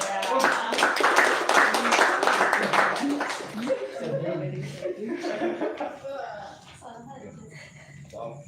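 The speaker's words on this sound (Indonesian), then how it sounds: "Boleh nggak dulu kita tepuk tangan?" An audience at a film discussion event claps hands in a lively burst mixed with chuckles and laughter, the clapping fading after a few seconds into laughing and chatter.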